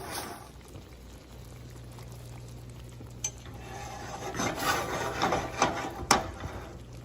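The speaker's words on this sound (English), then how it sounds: "Let that simmer for about 5 to 7 minutes." Red wine and beef stock simmer in a pan alongside mushrooms, giving a low steady bubbling hum with scattered louder pops and a few clinks toward the end, close and alone.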